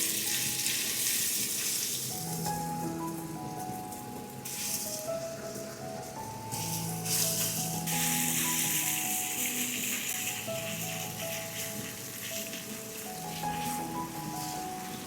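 Marinated beef sizzles and crackles steadily in a hot pan for a stir-fried Mongolian beef, a dense continuous frying hiss with faint stirring, no talk.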